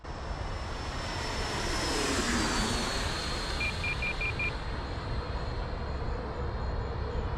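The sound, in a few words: Freewing T-45 Goshawk 90mm RC jet flying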